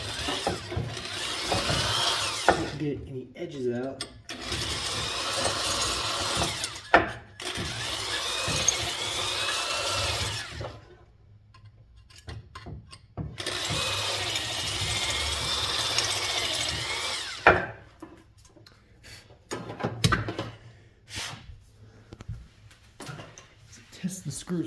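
Drill boring through the bushing housing of a vintage box fan motor, several sustained bursts of whirring cutting broken by pauses, with people talking in between.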